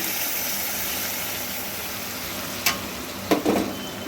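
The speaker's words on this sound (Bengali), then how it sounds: "এই ডালটা একটু ভালো করে নাড়াচাড়া করে" Boiled red lentils are stirred into a pan for a Bengali musur dal: a constant close frying hiss with a couple of brief spoon scrapes and clinks near the end, no talking.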